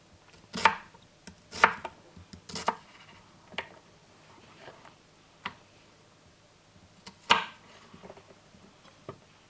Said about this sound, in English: This is how you want to cut the potatoes.